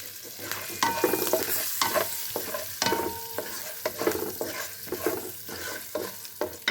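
Raw peanuts and curry leaves fry in a pan for brinjal chutney, a steady close sizzle broken by repeated scrapes and clinks of a spoon stirring, with no voices.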